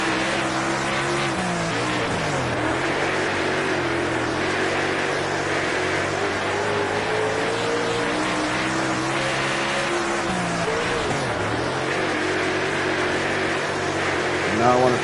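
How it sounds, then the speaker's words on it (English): A race car engine in a racing video game drones and revs continuously, throttle pulsing up and down with faint tyre squeal, someone talking over it throughout. "You can hear my throttle."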